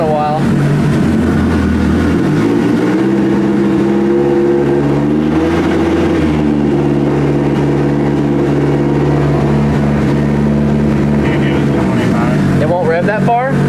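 A car engine, cold and left unrun for a while, revs up and holds near a ceiling it cannot pass, its steady loud drone swelling and settling several times while people talk over it.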